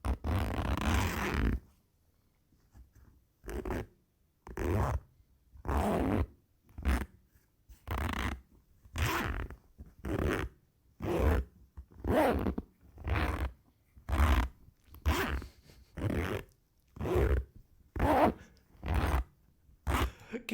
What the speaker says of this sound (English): Wait, my zipper of the backpack can be an instrument.